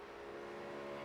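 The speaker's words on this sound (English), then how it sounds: "you can really see how he's really pushing that BMW as hard as he can" A BMW race car pushed flat out at Daytona in the racing game RENNSPORT, a steady, faint high engine drone holding a constant pitch, heard alone without voices.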